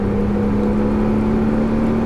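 Loud car engine droning up close with a steady whirring tone, accelerating hard during a driving course at Issoire, with no talking.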